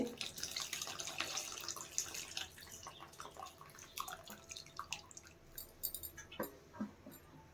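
Water poured into a pot of sambar, a splashing, gurgling stream that trickles and drips as it tapers off, close by and fairly quiet.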